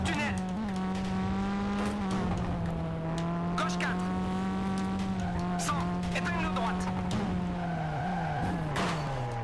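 A rally car in the racing game V-Rally 3 holds a steady, droning engine note with shifting pitch for several seconds, broken by repeated sharp tire skids and squeals. Gameplay audio runs continuously and loudly throughout.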